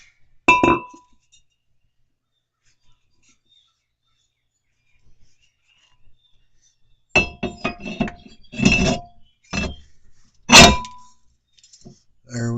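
A brake rotor from a 2003 Cadillac CTS being handled while it is reinstalled, giving a few scattered metallic clinks and clanks up close, separated by quiet stretches.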